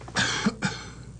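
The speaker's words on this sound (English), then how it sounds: "Take a deep breath in, real deep, hold it, and cough." Two quick, close coughs, one right after the other, with no talking.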